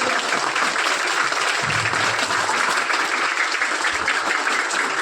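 An audience at a formal ceremony applauds to welcome an honoree, giving dense, sustained clapping from many hands that holds steady throughout with no break.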